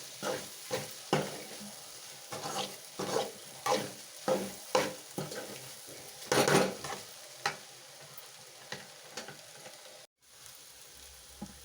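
Ivy gourd (dondakaya) stir-fry in a pan on low heat, with a soft constant sizzle under repeated scraping stirs from a spatula, about one every half second, plus a louder clack near the middle.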